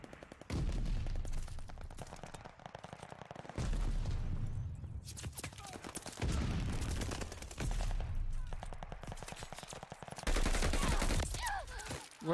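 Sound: gunfire in the video game Call of Duty: Vanguard

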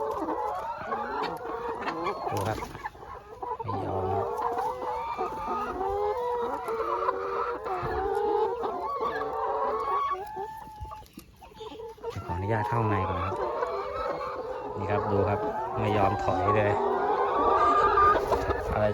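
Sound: laying hens clucking in a chicken coop

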